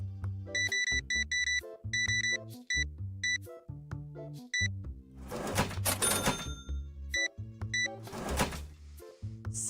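Retail cash register ringing up items: rapid repeated electronic beeps in quick bursts, with a louder printer-like rattle of the receipt printing midway, close and clear, no talking.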